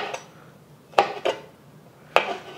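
A knife cuts homemade char siu barbecued pork into strands on a board, giving a few sharp separate knocks spaced irregularly, close and clear over a quiet room.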